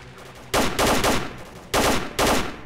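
Gunfire from a weapon in the video game STALKER: Call of Pripyat, loud close bursts of rapid shots in two clusters with a short gap between, no talking.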